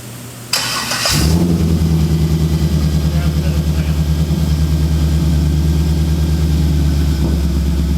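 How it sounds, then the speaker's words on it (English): An LS6 V8 in a 1933 delivery hot rod cranks briefly, catches and settles into a loud, steady, lumpy idle close by, running alone for several seconds. "I'm going to show you how good an LS6 starts without ever getting in the vehicle"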